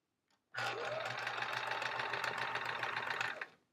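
A sewing machine stitches through three layers of fabric for an envelope pillowcase, a close, steady mechanical whirring hum that starts abruptly, runs about three seconds and stops.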